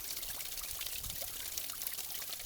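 Water pours and trickles out through an opened hatch on a waterwheel flume, a steady faint rushing flow with no talk.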